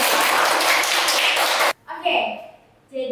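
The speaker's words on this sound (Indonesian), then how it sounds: "Oke, boleh beri tepuk tangan dong." A burst of applause from a classroom group clapping together for nearly two seconds, then stopping abruptly before some talking.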